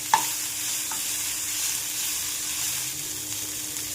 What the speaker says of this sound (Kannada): ಸ್ವಲ್ಪ ಫ್ರೈ ಆದ ತಕ್ಷಣ ಸ್ವಲ್ಪ ಪುದೀನ, ಸ್ವಲ್ಪ ಕೊತ್ತಂಬರಿ, ಇದನ್ನು ಚೆನ್ನಾಗಿ ಫ್ರೈ ಮಾಡಬೇಕು